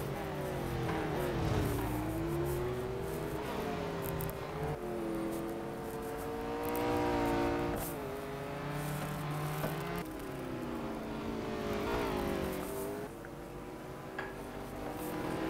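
McLaren 765LT supercar engine in the racing game Real Racing 3, a continuous loud engine drone with rising and falling pitch as it accelerates and shifts through corners, steady throughout with a slight drop near the end.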